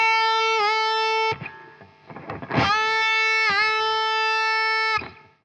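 Distorted electric guitar holds a sustained bent note, lets it down slightly and pushes it back up, with a short scrappy burst in between, loud and close, without talk.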